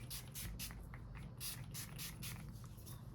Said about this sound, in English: go ahead and spray a finish spray on my face